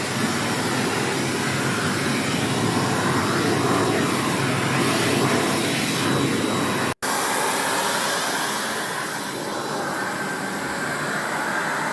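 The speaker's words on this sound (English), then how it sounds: "Then you can turn your vacuum on" A loud, steady roar of a Miele Blizzard CX1 bagless canister vacuum cleaner running continuously, with a brief cut-out partway through before the drone resumes.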